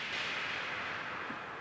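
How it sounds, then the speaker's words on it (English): A slow noise hit programmed on an Oberheim Matrix 1000 synthesizer washes through as a broad, steady, breathy noise with a soft swell, sustained and fairly loud for the whole stretch with no talking. "this slow noise hit. And that noise hit,"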